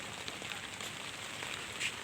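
Soft, steady patter of light drizzle falling on a rooftop garden, faint and continuous with no voices.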